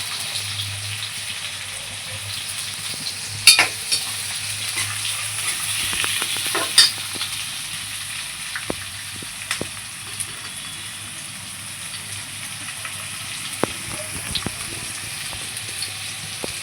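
Onions hit a pan of oil with fried green chillies for a potato bhaji, giving a soft continuous sizzle close by, broken by occasional clinks and scraping stirs.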